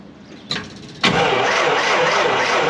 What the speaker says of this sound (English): before I dump fuel in there, see if it cranks, Rich.